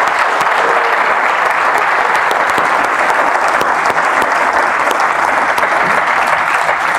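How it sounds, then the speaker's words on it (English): A live audience applauds steadily and loudly at the close of a talk with Casey Neistat, a dense wash of clapping that holds throughout without any speech. "Can you see another round of applause?"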